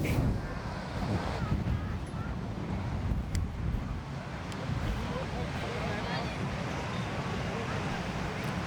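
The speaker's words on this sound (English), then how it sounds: "It's really windy today" Strong wind gusting across a sandy beach during a blowing sandstorm, a steady broadband roar with surf-like rumble buffeting the microphone throughout, no clear voices.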